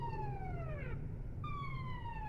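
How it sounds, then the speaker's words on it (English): A Star Wars style siren plays in the VRChat game. A tonal wail glides downward, breaks off briefly, then returns, sounding faint over a steady low rumble. "I hear your Star Wars siren."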